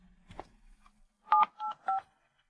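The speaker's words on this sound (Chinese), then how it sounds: "我去打个电话" Three crisp telephone keypad dialing tones in quick succession, each a short steady two-pitch beep, preceded by faint indistinct handling noise and followed by silence.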